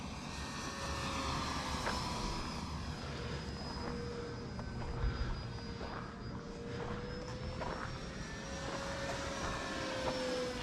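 An E-Flite Draco RC airplane makes a full-speed low pass, its electric motor whine sustained and fairly faint, rising and falling slightly as it sweeps by at a distance.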